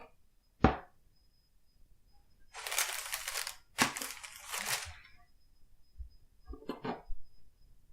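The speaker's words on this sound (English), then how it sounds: "I'm going to cut these in thirds here" A knife cuts stout beer brownies into thirds with a sharp tap on the board, then bursts of rasping, crumbly slicing and a few soft knocks, close up in a quiet room.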